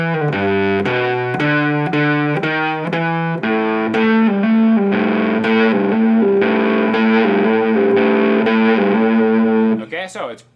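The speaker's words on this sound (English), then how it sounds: "I'm going to turn the univibe off and turn the Band of Gypsies fuzz on." An electric guitar with a Band of Gypsies fuzz pedal plays a riff slowly: distorted, sustained notes, loud and close, with no talking and a final strum fading out.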